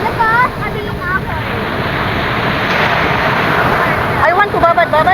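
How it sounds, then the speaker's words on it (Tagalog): Strong ocean waves crash on La Union beach, a loud, continuous roar of surf mixed with wind buffeting the microphone, while a few voices chatter briefly at the start and end. "The alon is so malakas"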